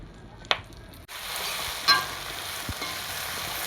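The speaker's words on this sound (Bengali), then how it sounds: "দিয়ে সবগুলো উপকরণ একসঙ্গে কষতে হবে।" Bay leaves, green chilies, ginger and garlic sizzle steadily in hot oil in a pan, with a soft background crackle broken by a few brief clinks and stirring sounds.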